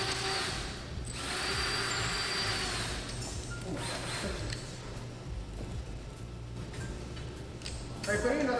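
A power drill drives a bolt while a robot is built, its steady whir lasting several seconds with a fainter grinding tail, mixed with workshop noise and nearby chatter.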